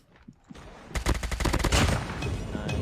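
Rapid automatic fire from the HBR assault rifle in Call of Duty: Mobile, a sustained loud burst of gunshots after a quiet start, with a short pause and then more shots.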